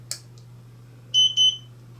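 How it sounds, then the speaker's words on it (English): Two short electronic beeps in quick succession from a LevelMatePRO device as its switch is slid on, clear and close, preceded by a faint click over a low steady hum. "Slide the switch to the right and you'll hear 2 beeps."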